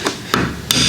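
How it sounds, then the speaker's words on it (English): A claw hammer strikes three times in quick succession, sharp close metallic knocks, while a 1989 Chevrolet 1500's 700R4 transmission is torn down. "Which hammer should I use, guys? Huh? Which one? Claw hammer?"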